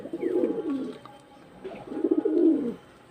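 Pigeons coo in two soft, rolling phrases with a short pause between them, close by and fairly quiet in an otherwise calm space.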